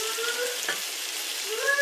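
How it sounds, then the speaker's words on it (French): Aubergines frying in hot oil, a steady close sizzle with faint crackle and a brief stir partway through, with no voices. "Elles sont bien dorées dans l'huile."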